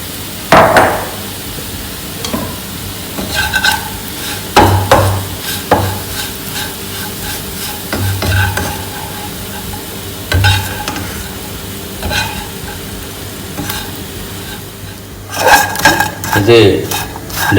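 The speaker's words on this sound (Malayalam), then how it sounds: "ബ്രെഡ് ടോസ്റ്റ് ചെയ്ത പോലെ ഞങ്ങളിതിട്ടൊന്ന് എണ്ണയിലിട്ടൊന്ന് വാട്ടിയെടുക്കുകയാണ്" Chopped bread pieces are sautéed in oil in a pan, giving a low sizzle broken by irregular loud scrapes and knocks of a utensil against the metal, with a burst of clattering near the end.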